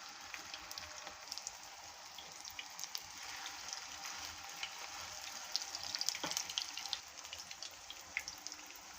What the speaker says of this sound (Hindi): फ्राई होने के लिए छोड़ देते हैं।